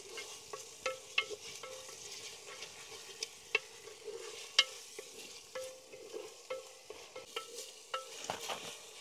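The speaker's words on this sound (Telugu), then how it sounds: "ఇట్లా పచ్చి వాసన పోయేదాకా గోలించుకోండి" Onions frying in a pan for mutton curry and being stirred with a spoon, a soft steady sizzle broken by light scraping clicks, close and fairly quiet, no talk.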